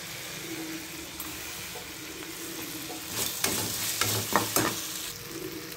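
Curry leaves and tomato for a veld grape chutney sauté in a pan, with a steady sizzle at first, then a burst of loud, close stirring scrapes and clatter near the end, and no speech.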